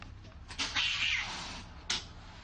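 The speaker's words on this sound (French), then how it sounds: "Les 2 mâles se livrent une guerre permanente." Two male house cats fighting in a small apartment, trading drawn-out yowling caterwauls and a sharp hiss or spit near the end, close and fairly quiet.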